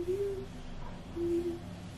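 Two long, clear hoots from an owl, one at the start and another about a second later, each steady and sustained against a quiet background hum with no talking.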